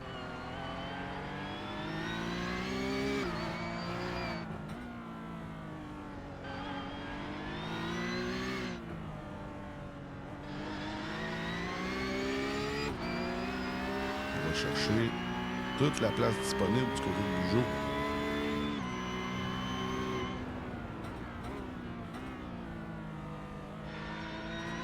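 Porsche Cup race cars in a Boost Cup series race scream past with high-revving engines that climb and drop through repeated gear shifts. A commentator talks excitedly over the steady engine roar throughout.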